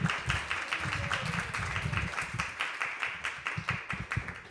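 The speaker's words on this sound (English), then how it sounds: "Let's have a round of applause here for Prekashuri and the band." Audience applause for a band at an ISKCON temple live-streamed gathering, a steady patter of clapping from a moderate crowd lasting several seconds, fairly close and busy.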